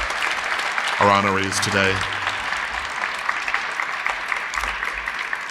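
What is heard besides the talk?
audience applause for the honorees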